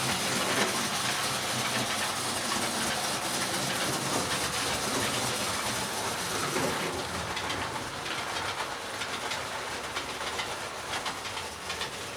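A model mainline Jubilee locomotive about 30 years old runs steadily on a layout, giving a continuous noisy mechanical whir and rattle with faint clicking from the track, loud and unbroken throughout with no talking.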